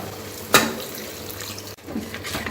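A small amount of water poured into a pressure cooker of spicy chicken gravy makes a brief splash and then a steady, soft trickling pour, heard up close.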